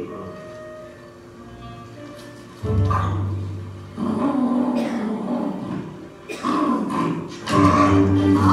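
A dog barks in several short bursts, fairly close, over a steady musical background.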